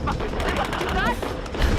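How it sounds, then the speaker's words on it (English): Gunfire in the Tomb Raider (2013) video game, a dense burst of rapid shots and rattling reports with dialogue layered over it, loud and continuous for under two seconds. "I'm seeing gunfire. They're retreating."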